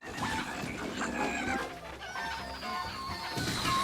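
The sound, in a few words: chickens clucking in a Zelda video game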